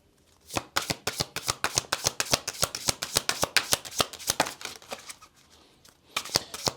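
A deck of Gentle Creatures oracle cards by Dan May is shuffled close up in a rapid run of crisp, evenly spaced card riffles, with a brief pause near the end before a few more flicks.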